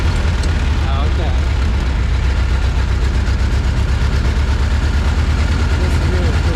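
A double-clutch car engine idles with a constant loud low drone and faint rhythmic pulsing, heard from inside the vehicle.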